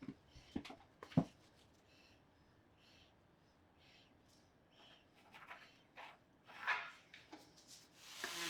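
Hand carving along the edge of a wooden retro swivel chair built from scrap wood, with soft rasping and scraping strokes in irregular bursts, a few sharper scrapes standing out, close and fairly quiet.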